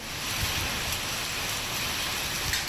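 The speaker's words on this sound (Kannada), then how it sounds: "ಗುಡುಗು ಮಿಂಚು ಸಹಿತ ಆನೆಕಲ್ಲು ಮಳೆ ಸುರಿಯಿತು" Heavy rain pouring down during a storm, a steady dense hiss of falling water with no distinct thunderclap or hail impacts standing out, fairly faint and continuous.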